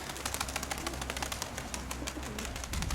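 Pigeons coo softly outdoors among gusty wind, with low rhythmic calls and scattered rustling, fairly faint and with no one talking.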